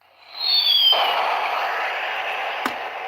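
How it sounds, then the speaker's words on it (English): An explosion sound effect: a rising whistle cuts into a sudden loud blast, then a long rumbling roar that slowly fades, with a sharp crack near the end. "here's an explosion right here"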